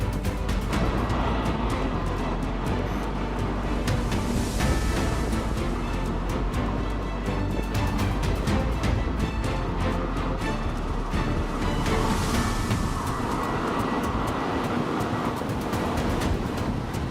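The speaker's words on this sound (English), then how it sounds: "Although the waves appear calmer this time, it's still proof of the robustness of these structures in the middle of the ocean." Heavy ocean waves and surf churn around the Oseberg A offshore rig, a loud, continuous roar of rushing water with wind buffeting throughout and no voices.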